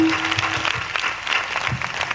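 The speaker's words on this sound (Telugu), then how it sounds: "చప్పట్లు కొట్టండి" A congregation claps in a church during a pastor's sermon in Ponnur, a short burst of scattered, fairly soft hand claps.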